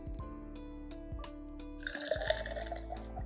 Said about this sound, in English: I think it was an aggressive pour.